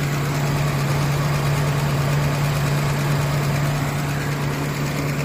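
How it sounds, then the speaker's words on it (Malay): A car engine idles roughly after a valve tappet clearance adjustment, giving a steady, close, continuous rumble with a strong low hum and a faint rapid ticking, heard alone. "bunyi engine tu agak kasar seperti yang anda dengar sekarang ni"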